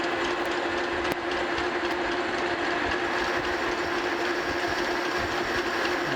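Metal lathe breaking the corners of a flat belt pulley for a metal planer, a steady continuous cutting and machine whir with a faint ringing tone, close and even throughout, with no talk.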